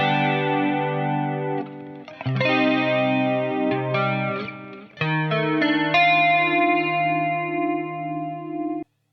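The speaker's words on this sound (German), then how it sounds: "80s Heavenly Sound mit Chorus und so weiter" An electric guitar plays sustained clean chords through a chorus effect for an 80s rock and pop sound, with shimmering harmonics and several chord changes, loud and alone.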